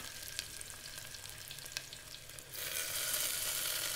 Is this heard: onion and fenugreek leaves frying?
yes